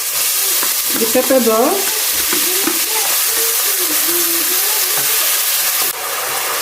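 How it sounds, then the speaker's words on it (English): Spring onions and carrot sizzle loudly in hot oil, with a steady frying hiss and stirring clatter throughout, while a voice briefly speaks over it. "So my oil is heated. I'll go ahead and add the spring onions and the carrot together."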